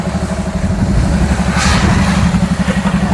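Heavy machinery at a farm well, with a JCB, tractors and a compressor running together: a loud, steady, close engine drone with a rhythmic low pulse and clattering mechanical texture throughout.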